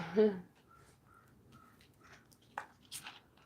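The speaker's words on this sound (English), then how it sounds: "the crow call means there's food" A crow caws a few times at a distance, short faint calls spread out across a quiet stretch, with brief voices nearby.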